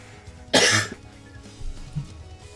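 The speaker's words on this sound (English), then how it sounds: "I do apologize for the coughs." A single loud cough burst, close and harsh, followed by a few faint throat noises and quiet rustling.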